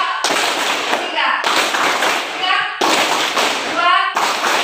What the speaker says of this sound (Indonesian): tepuk tangan 1 kali, 2 kali, 3 kali, tepuk tangan 2 kali